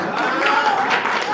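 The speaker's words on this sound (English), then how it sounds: "Please give him a round of applause." Audience members at a business leadership talk clap in a loose, moderate round of applause, with voices and a tonal sound running underneath the clapping.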